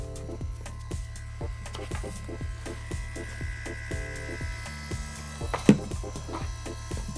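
An HP Sprocket pocket photo printer feeds a picture with a steady mechanical whir and a regular ticking stepper pulse, close and fairly quiet, with one brief louder click near the end.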